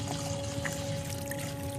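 Water pours steadily into a bubble bath in a jacuzzi tub, a continuous close splashing rush over a constant low hum.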